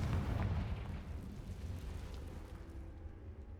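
Confringo explosive spell blast in Hogwarts Legacy, a heavy booming burst right at the start that rolls out into a long, rumbling decay lasting several seconds.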